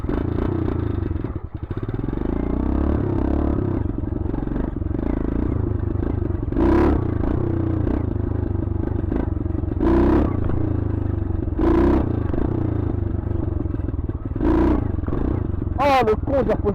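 A dirt bike ridden with a broken clutch, its engine droning steadily with repeated revs and surges while the rider talks over the noise.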